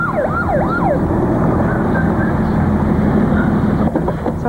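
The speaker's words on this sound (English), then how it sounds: "The ambulance is here now." An ambulance siren wails loudly and close throughout, its rising and falling tone sweeping repeatedly over steady traffic rumble as the vehicle arrives, with no talking.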